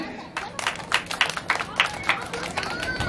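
Audience at a Children's Day event in Matamoros clapping in an uneven, lively burst of applause, with crowd chatter mixed in.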